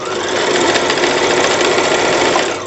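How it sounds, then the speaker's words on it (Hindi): A sewing machine runs a steady, loud stitch along a marked line on a kurti, one continuous close whirring burst with no pauses and no talk. "उस पे ही हम इस तरह से सिलाई लगा देते हैं"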